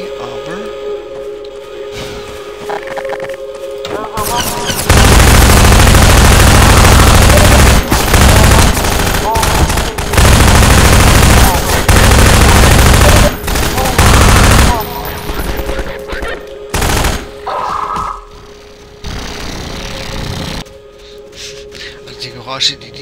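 Heavy gunfire rages in a Half-Life 2 firefight: loud, sustained automatic bursts roar for several seconds at a time, broken by short pauses, and then fade into quieter game ambience.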